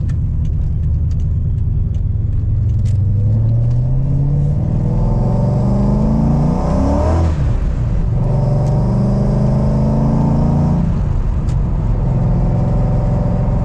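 A Procharger-supercharged Ford Mustang engine pulls hard from inside the car, a loud continuous roar rising in pitch through the gears with a brief dip at a shift, heard alone without talk.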